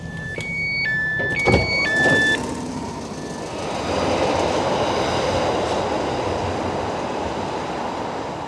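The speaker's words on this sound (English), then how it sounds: "I can really feel the acceleration on this train in particular." Merseyrail electric train pulling away and gathering speed, a steady rising rumble and hum heard from inside the carriage after a series of high door-warning beeps at the start.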